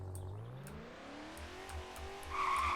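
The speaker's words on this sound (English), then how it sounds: "And, of course, we can drift. Oh, we got new tire sounds and new drift marks, too." A virtual car drifting in the Roblox game RoVille, with a steady engine note and tire squeal that grows louder near the end.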